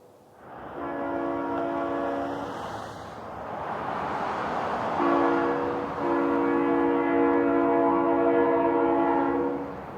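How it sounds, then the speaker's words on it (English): A Metrolink train rumbles steadily along the tracks into a rail yard on the Perris Valley line, sounding two long horn blasts as it rolls past at moderate distance. "the train continued into the yard where it will be staged until departure time for its next trip"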